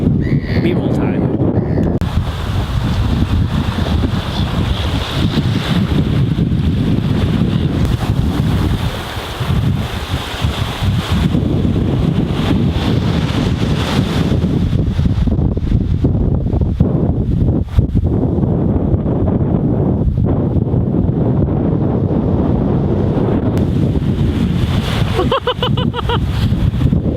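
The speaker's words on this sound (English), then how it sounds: "So windy." Strong wind buffets the microphone outdoors by the water in Auckland, a loud continuous roar and rumble that barely lets up, with a voice briefly audible.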